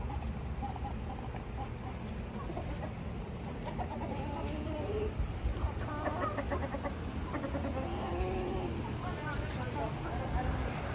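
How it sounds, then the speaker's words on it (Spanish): Hens and roosters, including large white laying hens, cluck and murmur close by in a continuous chorus of short calls, with a person talking over them. "Aquí tengo estas otras gallinitas."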